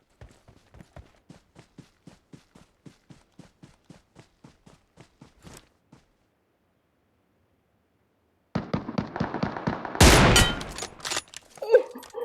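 Rapid gunfire from PUBG Mobile: a steady run of sharp, evenly spaced shots, a short pause, then denser, louder bursts of firing close by.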